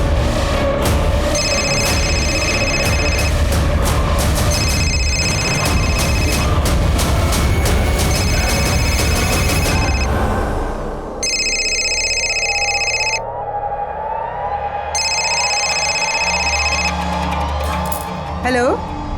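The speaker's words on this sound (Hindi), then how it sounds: "अरे मेरा फोन बज रहा है" A mobile phone rings in repeated patterned bursts over the loud, busy noise of a Holi gathering, with the ringing continuing after the crowd din drops away.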